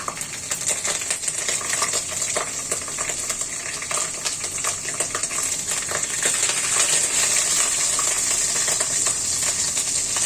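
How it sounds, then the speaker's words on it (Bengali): Black cumin and cumin seeds splutter in hot oil, a steady dense crackle of sharp pops and sizzling that runs loud and close throughout, with no voices. "আমার কালো জিরা নর্মাল জিরা ফুটে এসেছে"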